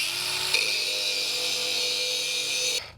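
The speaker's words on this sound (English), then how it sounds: "I'm also gonna bevel this flange so that I can get in here and put a little weld around the outside edge" A power tool grinds a bevel onto a metal exhaust flange on a Ford, a steady high-pitched whine running close and loud for nearly three seconds before cutting off abruptly.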